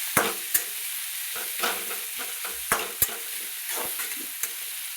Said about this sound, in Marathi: चांगलं तेलात फ्राय करायचा.